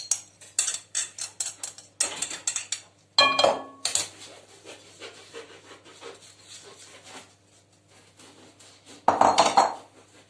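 Cooked bulgur is spooned from a pot into a wider bowl, with repeated scraping and tapping strokes of a spoon against the dishes and a couple of louder clanks.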